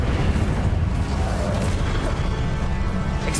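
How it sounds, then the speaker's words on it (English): An Incendio fire spell is cast in Hogwarts Legacy, giving a dense, loud, continuous whooshing roar of flame that holds steady throughout without pause. "Incendio 熊熊火焰可以"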